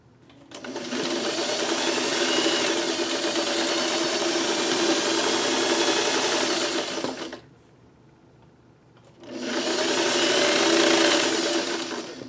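A sewing machine stitches pieces onto a quilt strip in two loud, steady whirring runs, a long seven-second burst and a shorter one after a pause, with no talking.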